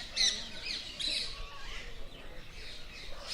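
Parrots chatter in sharp squawks and chirps while other birds sing around a huge old tree at a ghat in Gokul, the calls fairly faint and scattered in open outdoor air.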